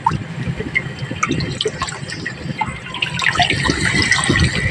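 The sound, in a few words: strong flow of water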